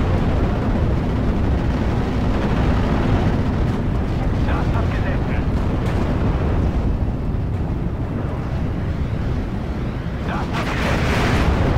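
Explosions from bombs dropped in the Steel Division: Normandy 44 strategy game form a loud, continuous roar of rumbling blasts. Dense low booms run throughout without a break, and a voice talks over them.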